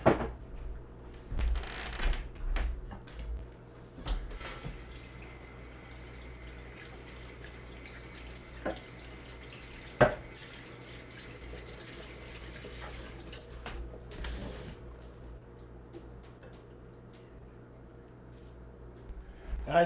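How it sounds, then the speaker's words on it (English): Freshly harvested grapes rinsed under a running tap, a steady moderate stream of water with a few splashes and knocks near the start and a sharp clunk midway. "So let's wash these grapes up."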